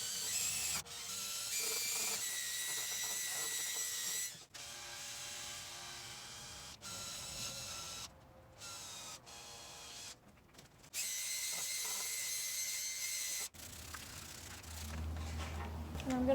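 A power drill spins a 3000 grit sanding disc against a car headlight lens, whirring in several loud bursts broken by brief pauses and softer handling noises, close to the listener.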